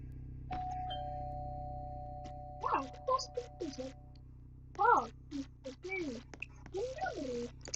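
An electronic doorbell chime rings outside a house, a sustained bright tone near the start, followed by people talking over a low steady hum.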